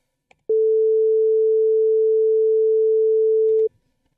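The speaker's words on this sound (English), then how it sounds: "you will hear a sine wave." A pure, steady synthesized sine wave tone from Unreal Engine 5 MetaSounds sounds cleanly for about three seconds at constant pitch and loudness, starting and stopping abruptly with small clicks.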